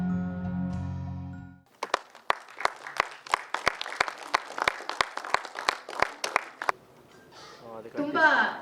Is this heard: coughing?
no